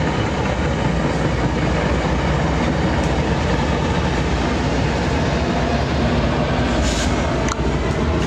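A train passing in Rhode Island, heard as a loud, continuous rumble and clatter of wheels on rails that stays close and steady throughout.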